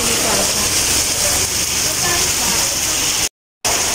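Heavy typhoon rain pours down in Tagaytay, a loud, steady, close roar of water that briefly cuts out near the end.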